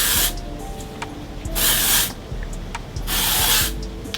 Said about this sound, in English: Let's go ahead and put the dry shampoo in.